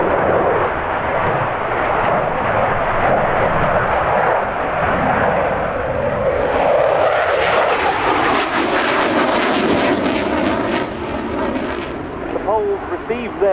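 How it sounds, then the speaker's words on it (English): A Polish Air Force MiG-29 fighter jet roars through a flying display, loud and continuous with the engine noise rising and shifting as it passes, and a commentator's voice is faintly present underneath. "Now he flies the MiG-29"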